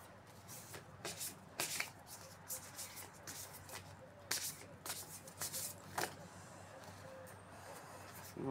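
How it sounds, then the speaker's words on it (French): Large tarot-style cards being shuffled by hand, with repeated riffling bursts and soft flicks in an irregular rhythm, close but quiet, and a voice talking now and then underneath. "je vais essayer de les battre comme ça, parce qu'elles sont vraiment grandes"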